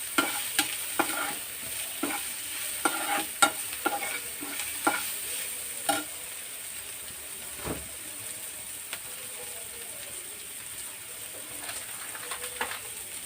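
Spoon stirring turmeric and chili powder into a frying pan, a steady low sizzle beneath irregular scraping clicks that cluster in the first six seconds and then thin out, with no talking.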